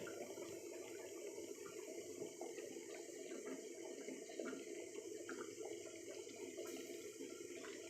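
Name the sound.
rice water boiling under a pot lid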